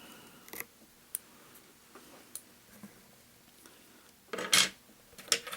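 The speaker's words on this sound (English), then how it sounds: "Going to take my scissors and put a slight curve in this." Scissors snipping fly-tying material at a vise, a few faint isolated clicks followed by a couple of sharper close cuts near the end, with no talking.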